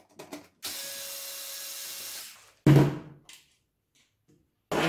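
Screws come out of the main logic board of an AOC G2778VQ monitor, heard as short ratcheting whirs of a powered screwdriver with brief clicks and clunks and silent gaps between them, close and fairly quiet.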